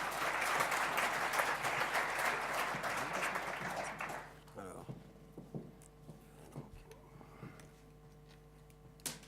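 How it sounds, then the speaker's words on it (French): An indoor audience gives a dense, warm round of applause for a speaker at a talk, fading after about four seconds into scattered claps and faint room noise. "On peut l'applaudir chaleureusement."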